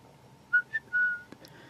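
A person whistles three quick, close notes, the last held slightly longer, followed by a faint click in a quiet room.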